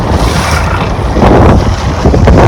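A motorboat's engine drones steadily over rushing water and heavy wind buffeting the microphone, loud and continuous with no voices, in Dr B.R. Ambedkar district, Andhra Pradesh, near Antarvedi.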